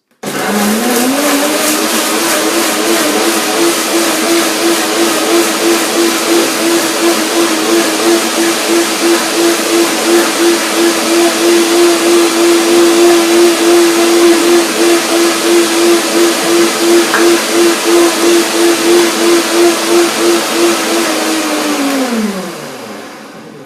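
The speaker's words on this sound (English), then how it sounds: "So I begin blending the blender dance." A blender whirs through a raw vegan paprika, garlic and sesame sauce, running as one loud, steady drone for about twenty seconds before spinning down.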